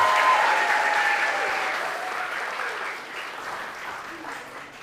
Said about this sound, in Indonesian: tepuk tangan yang paling meriah untuk Almer Rehan